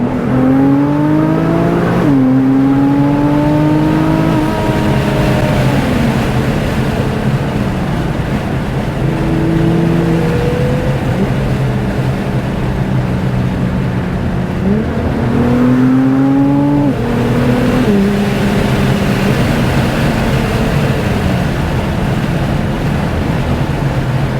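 A Nissan GT-R R35 on backroads pulls hard through the gears, its engine note climbing steeply, dropping at each shift and climbing again, loud and continuous from inside the car.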